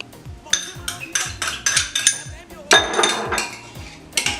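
Garlic and chopped onion being mixed into a paste with a utensil make rapid, loud, repeated clinks and scrapes of metal against the bowl, coming in bursts at close range.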